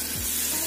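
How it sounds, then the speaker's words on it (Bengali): Hot oil tempered with spices poured and mixed into a spicy homemade lemon pickle gives a brief, steady sizzle, close and fairly loud, with no talking. "ফোড়ন দেওয়া তেলটা আমি আচারের মধ্যে মিশিয়ে দিচ্ছি।"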